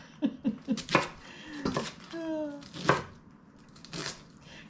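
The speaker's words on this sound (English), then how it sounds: "All that matters is that you are chopping up the cabbage." A knife chopping cabbage on a board for homemade sauerkraut, a quick run of crisp cuts followed by scattered heavier chops, with a voice talking and laughing in between.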